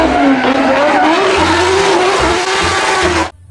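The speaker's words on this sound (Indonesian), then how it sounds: "Ini adalah mobil balap merah." A toy red race car's sound effect plays a loud, steady roaring engine with squealing, skidding tires for about three seconds before cutting off abruptly, with no talking.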